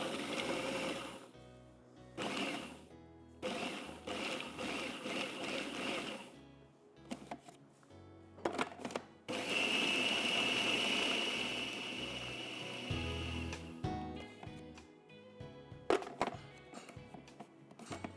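A kitchen blender pulses lahmacun topping ingredients in short bursts, several loud whirring runs separated by pauses, with one longer, steadier run in the middle and clunks between them.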